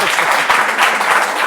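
Steady audience applause, a dense crowd clapping continuously and fairly loud throughout.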